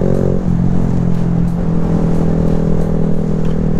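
Cars driving along a street, a loud close engine hum that rises and falls as vehicles pass, steady throughout with no talking.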